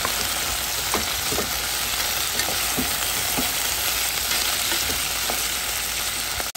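Zucchini cores fry in a pan, a steady loud sizzle with occasional soft clicks of stirring.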